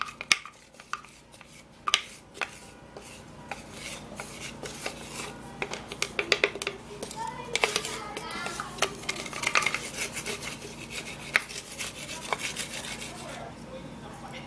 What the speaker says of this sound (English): So I'm gonna be transferring all of that